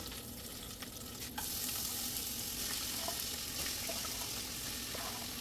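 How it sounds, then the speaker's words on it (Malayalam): Chopped onions sautéing in oil for a Kerala prawn biryani, a steady low sizzle with some stirring and faint watery clatter throughout, close by, growing a little louder after the first second, no talk. "നമുക്ക് ഈ എണ്ണയിലേക്ക് തന്നെ നേരത്തെ അരിഞ്ഞു വെച്ചിരുന്ന സവാള ഇത് വഴറ്റിയെടുക്കണം"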